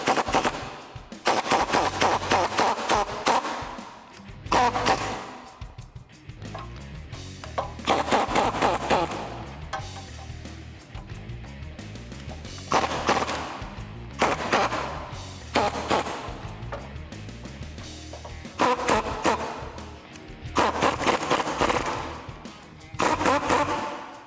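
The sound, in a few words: impact gun with 17mm socket spinning off strut nut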